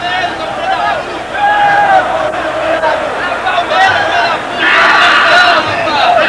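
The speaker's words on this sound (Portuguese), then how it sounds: "Você viu que bonito a torcida do São Paulo cantando e ali ainda incentivando o seu time." São Paulo football fans sing and cheer together in a packed stadium late in a 1993 semifinal against Palmeiras, a loud sustained crowd chant with a surge of roaring near the end.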